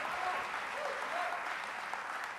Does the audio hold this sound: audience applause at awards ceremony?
yes